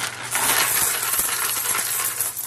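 Coins clatter and jingle in a steady, dense shower as they drop and get scrambled for, a bright metallic rattle filling the whole stretch without talk.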